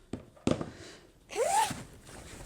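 A zipper on a sewn garment bag's small accessory pouch is pulled open in one short, close rasping stroke, preceded by a couple of soft handling taps and rustles.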